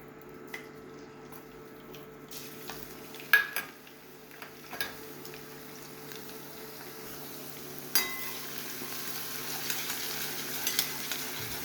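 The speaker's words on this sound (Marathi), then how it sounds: "मग जिरं लसूण पेस्ट टाकायची." Cumin and garlic paste hit hot oil in a pan while cooking paneer bhurji. A soft sizzle rises after a few stirring clinks and swells into a steadier hiss in the later seconds, with no talking.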